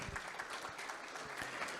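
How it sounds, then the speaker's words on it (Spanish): Audience at a conference session on the circular economy claps for an engineer after his talk, a soft, fairly distant, even patter of many hands. "Nuevamente un aplauso para el ingeniero por su ponencia"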